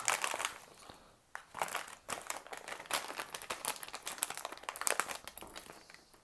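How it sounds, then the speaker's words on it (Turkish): Plastic packages from a carburetor rebuild kit for a two-stroke marine engine are handled and pushed aside, close, irregular crinkling and rustling bursts throughout with brief pauses. "Şöyle şu paketleri ileriye iteyim."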